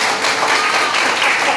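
A church congregation claps continuously, a loud, even wash of applause from start to finish.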